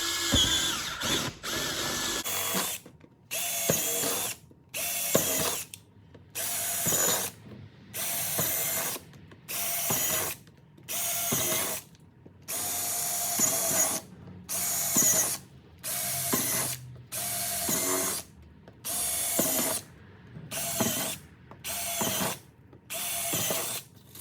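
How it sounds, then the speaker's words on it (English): A power drill with a step bit whines through repeated bursts, about a dozen evenly spaced drilling runs of a couple seconds each into Harley-Davidson bag lids, separated by short pauses, close and loud. "Grab a step bit, and you want to pre-drill the holes all the way around"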